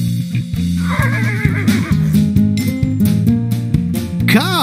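A horse whinnies in a children's animal puzzle game over a steady, bouncy music loop, its neigh rising and falling briefly near the end.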